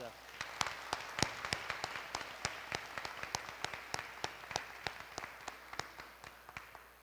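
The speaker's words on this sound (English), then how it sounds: "let's give them a round of applause" An audience applauds a group from the Chillicothe School District at a Teacher Appreciation Day event, with sharp, evenly spaced individual claps standing out over a steady wash of crowd clapping.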